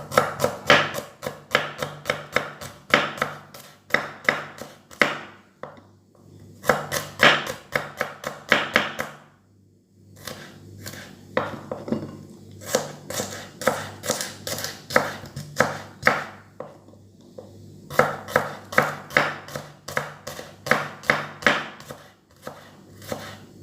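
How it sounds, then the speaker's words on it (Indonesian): A knife thinly slices shallots on a cutting board in rapid, even bursts of crisp taps, with short pauses between runs, close and clear with no voices. "Kita iris dulu bawang merahnya. Irisnya tipis-tipis."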